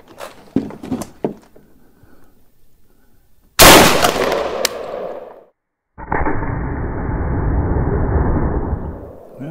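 Rifle gunshots fired at an RTS Tactical AR600 Level III+ armor plate during testing: several sharp cracks early on, then a loud blast that decays and a sustained loud roar of noise after a brief silence.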